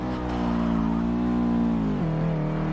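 A Subaru with all-wheel drive over-revs in the racing game Forza Motorsport 6, producing a loud, steady, high engine drone that holds for about two seconds before the pitch drops abruptly and settles lower.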